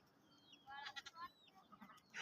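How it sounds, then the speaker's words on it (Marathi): Goats resting beside a new company building near an orchard bleat a few times, short wavering calls heard close and moderately loud over quiet outdoor background, with a kid among them. "बघा ही त्याची बकरी कशी काय बकरी बघा मित्रांनो"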